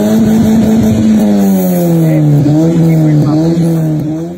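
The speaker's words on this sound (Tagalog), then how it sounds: "Chambered muffler." A car exhaust running through a chambered muffler gives off a loud, deep, steady burble with slight rises and dips in revs, heard close and alone throughout.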